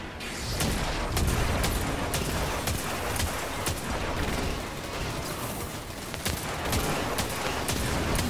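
Dense, continuous gunfire in Destiny 2 during a Leviathan raid, with rapid overlapping shots and booms crackling loudly throughout and no speech over it.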